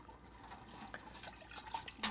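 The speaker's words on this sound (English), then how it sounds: "So I'm using a little bit of water in this can." Water poured from a small can over the bare roots of a broccoli seedling, a faint, soft trickle with light dripping and splashing, close by and without talk.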